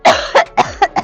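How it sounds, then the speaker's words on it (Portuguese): A woman coughs five times in short, forceful bursts, close to the listener, each cough a sharp hit separated by brief pauses, performed as part of a pelvic floor exercise. "Então agora dá uma tosse daquelas assim gostosas."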